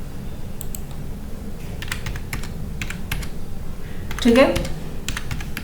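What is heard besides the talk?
typing on a computer keyboard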